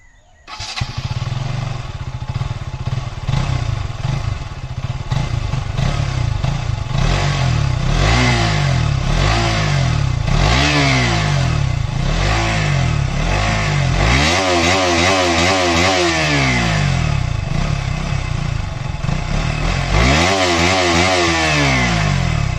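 A KTM RC200 motorcycle engine runs loud and close, revving repeatedly with rising and falling sweeps, including sharp blips up and back down toward the end, and no talking over it.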